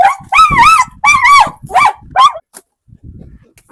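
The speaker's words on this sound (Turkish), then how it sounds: "Köpek saldırıyor mu abi?" A dog guarding a poultry coop lets out several loud, close barks and growls in quick bursts, then goes quiet apart from a few faint rustles.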